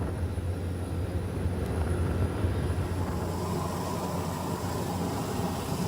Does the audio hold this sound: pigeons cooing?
no